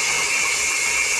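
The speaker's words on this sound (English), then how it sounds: "That's the paste grinding a new edge on the valve, a new seat on the valve." Drill turning a Kawasaki FX730V V-twin valve at low RPM with lapping paste, grinding a new seat: a steady, continuous gritty hiss and whir, close and fairly loud, with no talking.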